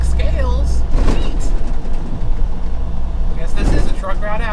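Trucks passing along a truck route, loud road engine roar and tyre noise swelling and fading as vehicles go by, with a voice talking over the traffic.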